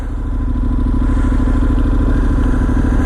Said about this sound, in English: Alright, so that's how you start it.